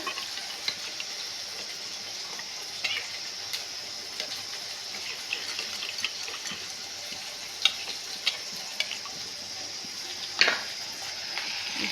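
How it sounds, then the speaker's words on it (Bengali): Water is poured onto spices sizzling in a cooking pan for soybean and potato curry, producing a continuous hissing fry with scattered faint pops and clinks, fairly quiet and steady throughout. "এবারে মশলাটাই আমি বরাবরের মতো অল্প জল দিয়ে দেবো"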